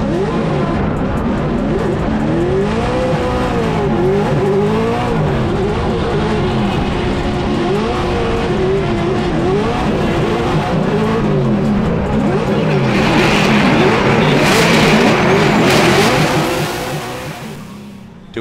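Formula Drift cars at the Long Beach street course sliding and revving hard, engines wailing with rising and falling pitch while tires squeal throughout, loud and continuous, with a burst of brighter tire and crowd noise near the end under commentary.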